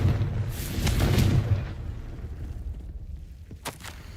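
A Confringo fire blast spell explodes in the Hogwarts Legacy video game, a loud booming burst that swells and rumbles for about a second, then fades into lower background noise with a few brief sharp pops near the end.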